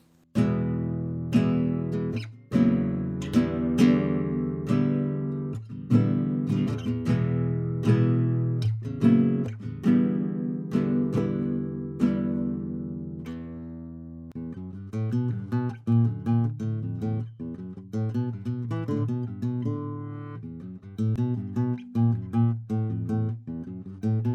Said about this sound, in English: newly cleaned, old school classical guitar.